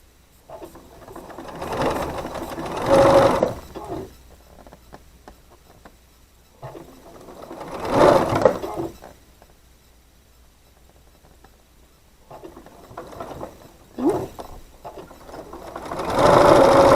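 A sewing machine stitches quilt pieces for a rainbow half-square-triangle quilt in three separate bursts, each whirring run building in speed and loudness before stopping, with quiet pauses between.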